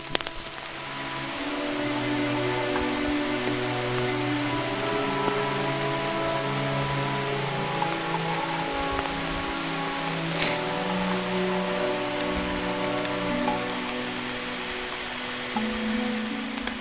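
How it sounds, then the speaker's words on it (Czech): Rain falls steadily outdoors on a mountain ridge in the Malá Fatra range, a constant broad hiss with a low hum and no one talking. "No ale prší fajnovo."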